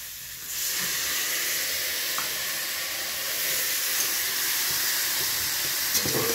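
A splash of water hits a hot pan of okra chutney and sets off a loud, steady hiss and sizzle that holds evenly for several seconds, with no talking.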